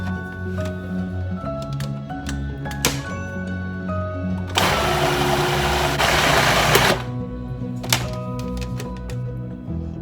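A blender whirs loudly for about two seconds grinding spinach with half a cup of water, a harsh grinding burst over steady background music with light clicks around it.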